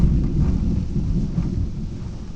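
Heavy rain pours down during a severe thunderstorm while thunder rumbles low and continuous, a dense, close wash of sound with no voices.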